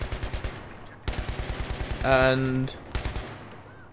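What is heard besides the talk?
machine gun firing in video game Battlefield 3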